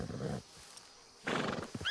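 Two loud horse neighs from a Red Dead Redemption 2 game scene, one at the start and another after a short quiet pause, both close and alone without talk.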